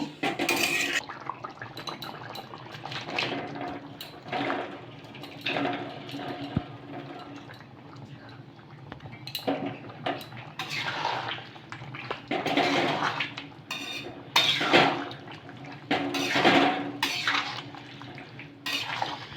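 Water is poured into a cooking pot of softened tomato for a wheat-flour dish, splashing and gurgling with light clinks of a spoon against metal, close and moderately quiet, no voices.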